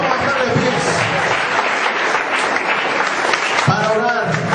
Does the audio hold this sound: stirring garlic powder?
no